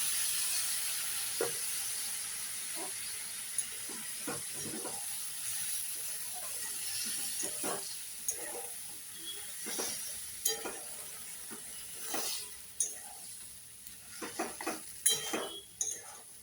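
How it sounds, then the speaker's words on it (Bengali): Spice masala with fried eggs sizzling in a pan after a little water is added, a steady hiss with frequent scraping and clinking of a spoon against the pan. "দেব একটু জল নাহলে মশলাটা ধরে যাচ্ছে"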